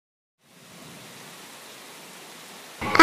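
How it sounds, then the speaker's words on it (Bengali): Rain in a Bengali cartoon, a steady hissing downpour that starts after a brief silence and keeps an even level, with a short bright chime near the end. "আবারও বৃষ্টি শুরু হয়ে গেল।"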